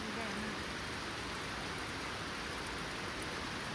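Steady, dense rain falls in a broad hiss over a field of crops, soft and constant throughout with no other clear sounds.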